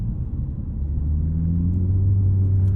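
A 2019 Chevrolet Malibu fitted with new tires and coilovers drives through a corner, its engine giving a loud, steady low rumble and drone that rises slightly in pitch as it goes, with no talking.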